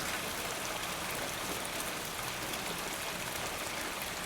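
Group of people patting their hands on their shoulders to imitate subsiding rain in an Australian rain exercise. A dense, even patter like rainfall fills the whole stretch at steady loudness, with no voices.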